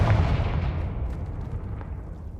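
A Confringo fire spell explodes in the Hogwarts Legacy video game, a loud booming blast with a rumbling low tail that slowly fades over a couple of seconds, with no voices over it.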